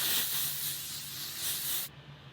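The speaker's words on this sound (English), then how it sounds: "you're gonna hold the can this much away from your face, and then you're gonna spray" Makeup setting spray hisses from an aerosol can in one steady, close, fairly bright burst lasting almost two seconds, then cuts off abruptly, leaving only a faint room hum.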